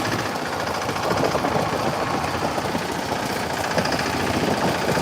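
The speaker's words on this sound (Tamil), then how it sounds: "ரொம்ப சூப்பராக இருக்கு இது போட் பயணம்" Boat engine droning continuously during a river trip on the Narmada, a loud, steady low rumble with a rough, throbbing texture that does not let up.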